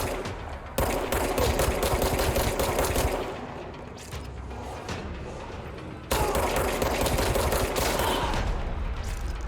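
Gunfire in the video game Control comes as dense, rapid automatic bursts, loud and close, easing briefly midway before another sustained barrage.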